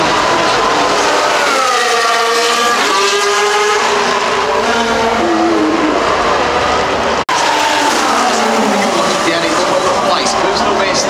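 George Russell's Formula 1 car screams around the Singapore street circuit from onboard, its engine rising and falling in pitch through upshifts and braking, loud and close, with commentary voices running over it.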